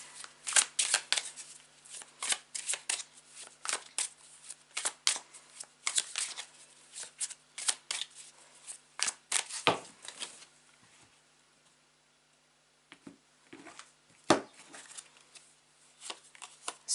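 A deck of tarot cards is shuffled close up, with quiet, crisp bursts of cards riffling in quick, uneven runs and a short pause partway through.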